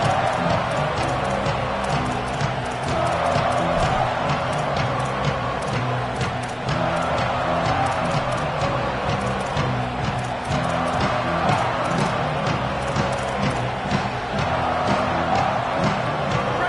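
A large football stadium crowd at a Texas A&M game roars in a steady, dense wall of cheering and chanting that stays loud and unbroken throughout, with a distant announcer's voice faintly audible underneath.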